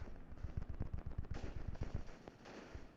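Rapid bursts of automatic gunfire in the Free Fire battle-royale game, loud, close and punchy, with uneven pauses between volleys.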